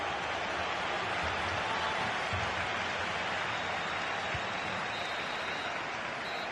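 Stadium crowd in the FC25 football game at the Montilivi ground, a constant wash of cheering and applause-like roar with a few low thumps underneath, steady and fairly distant.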